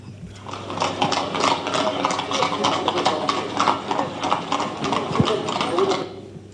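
Hooves of a horse pulling a small carriage, a steady rhythmic clip-clop close by with faint rattling of the vehicle, continuing evenly for several seconds before stopping.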